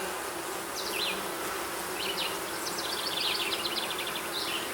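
Honeybees swarm around a second super on an active beehive, a dense, steady buzzing drone filling the air throughout, with faint chirps flitting over it.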